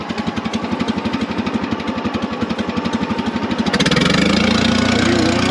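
A tractor's diesel engine idles with a slow, heavy, regular thump, close and steady, then its pitch and loudness rise briefly near the end.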